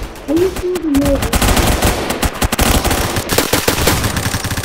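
A fully automatic gun fires in Roblox Phantom Forces, a loud sustained burst of rapid shots that runs for several seconds with brief gaps.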